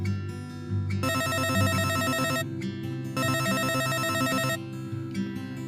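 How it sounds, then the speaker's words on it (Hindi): A telephone rings in two long electronic bursts separated by a short pause, loud and close, with no talking. "बस कुछ ही पल में ड्राइवर का फोन आता है।"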